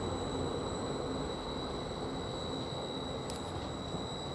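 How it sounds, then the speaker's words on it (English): A Greater Anglia train rolls out of Bury St Edmunds station toward Ipswich, a faint, steady distant rumble of wheels on track with a brief squeal near the end. "we've got a Greater Anglia train now departing from Cambridge towards Ipswich"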